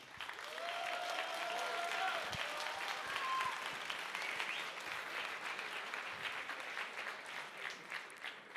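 An event audience applauds volunteers with sustained, dense clapping that holds steady throughout, fading slightly toward the end, with no speech over it.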